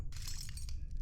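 Glass crunches and clinks underfoot in the horror video game Layers of Fear, a brief, faint scatter of sharp shard sounds over a low background hum.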